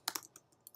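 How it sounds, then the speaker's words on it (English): Quick clicky keystrokes on a computer keyboard, a short run of taps followed by a few sparse presses, close and fairly quiet. "Okay, so here I'm typing"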